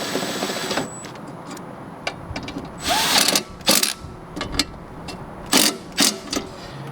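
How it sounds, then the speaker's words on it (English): An impact wrench tightens the blade bolts on a lawn mower in several short, loud bursts of rattling hammering, separated by pauses of quieter handling noise, with no talking. "Now I can grab my impact and I can just tighten these a little bit to save some time."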